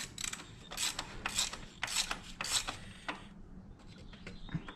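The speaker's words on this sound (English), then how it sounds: "get it hand tight and then finish it with your 32 millimeter socket" A ratchet wrench with a 32 millimeter socket tightens a hand-threaded part during car maintenance. About five quick, raspy clicking strokes come close and fairly quiet, then a softer pause, with no talk.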